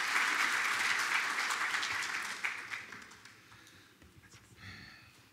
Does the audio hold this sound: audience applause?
yes